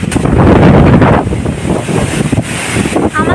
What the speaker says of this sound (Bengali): আমাকে উড়িয়ে দিচ্ছে, এত ঝড় দিচ্ছে